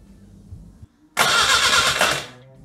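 A homemade scooter powered by a car engine with ignition set and carburetor cranks on the starter for over a second, a loud, close whirring burst after quiet, with almost no combustion catching before it stops.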